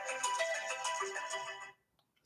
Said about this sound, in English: my alarm went off to remind me to do some affirmations